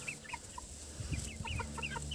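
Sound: broiler chickens clucking

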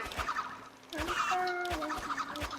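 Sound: chicken clucking in Roblox Rune Slayer video game

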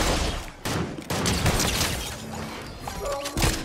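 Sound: gunfire in the video game Fortnite

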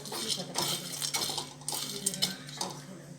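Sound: star anise being roasted in a pan

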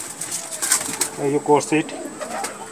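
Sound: pigeons cooing, Madrasi pigeons

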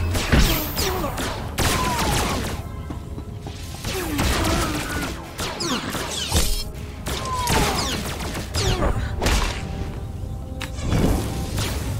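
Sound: gunfire in a video game

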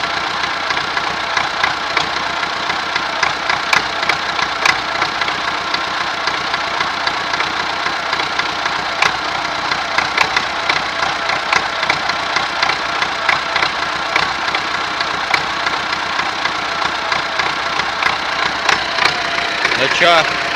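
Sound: MTZ tractor engine idling unevenly

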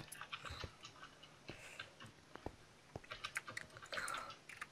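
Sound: computer keyboard clicking while playing Minecraft

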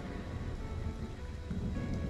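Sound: thunderstorm in the video game Stranded: Alien Dawn

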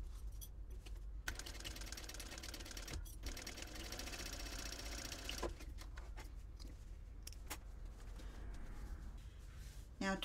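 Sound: sewing machine top stitching a packing cube seam

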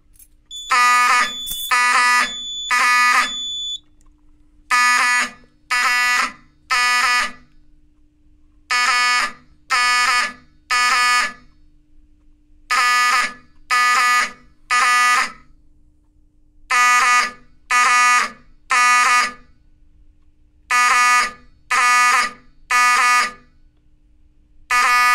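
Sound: Simplex 4004 fire alarm system test with Wheelock alarms

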